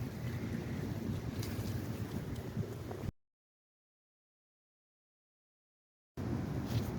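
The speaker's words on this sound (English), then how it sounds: "I am out here fighting with the wind." Strong wind buffets a garden and rumbles across the microphone at moderate loudness, cut by a stretch of complete silence and then starting again.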